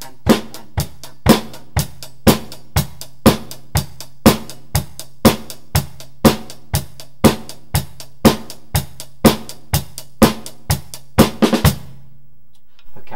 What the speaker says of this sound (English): that's the third rock beat that we have now learnt